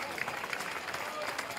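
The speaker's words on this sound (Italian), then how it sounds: "fategli un applauso per favore" Audience at an Italian Serie D club presentation for Colligiana clapping, a short dense burst of applause with a voice talking over it.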